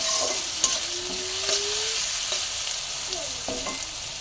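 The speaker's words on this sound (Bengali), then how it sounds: "আলু ভেজে রাখা তেলে দিয়ে দেবো পেঁয়াজ কুচি" Oil sizzles steadily as chopped onions fry in oil left from frying potatoes, with occasional clinks and scrapes of a spoon stirring the pan.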